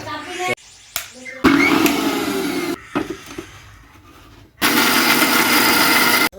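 An electric blender grinds red chili, garlic, ginger and water into a spice paste, a loud close motor whir in several bursts that stop and restart, the last burst steady and full.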